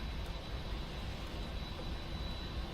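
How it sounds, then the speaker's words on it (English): Boeing 747 jet engines spool up on a PMDG 747 in the Prepar3D flight simulator, a steady, faint whooshing roar that holds level throughout with no talk. "Listen to those beautiful engines spool up."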